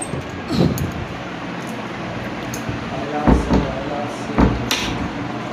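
A door bangs shut a few times in the wind during Cyclone Remal, heavy thuds spaced irregularly over steady rushing wind noise, with a person talking in between.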